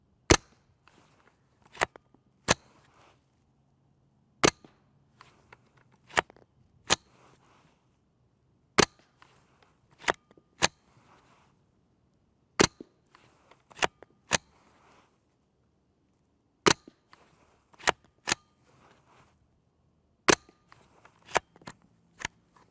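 Subsonic 5.7x28mm and .22LR rounds fired at a 25-yard target: a string of about seventeen quiet, sharp cracks spaced irregularly over twenty seconds, each brief and clean against a near-silent background.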